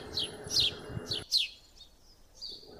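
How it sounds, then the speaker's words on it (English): House sparrows give a few sharp, high chirps in quick succession, close and fairly loud, then fainter calls follow after the background suddenly drops away. "House sparrows are small plump birds with conical beaks that can crack the nuts."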